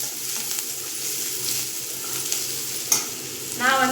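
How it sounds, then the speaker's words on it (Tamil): Big onions sauté in a pan, a continuous close sizzle with occasional stirring scrapes and a sharp tap near the end. "வெங்காயம் நல்லா வதங்கணும்."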